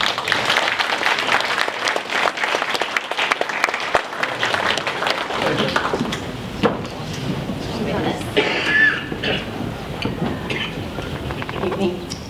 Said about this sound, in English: give her a big round of applause as she comes up tonight